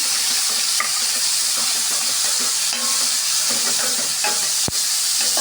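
Ginger and chopped onion sauté in hot oil in a pan, giving a steady, loud sizzle broken by occasional scrapes and clinks of the stirring spoon.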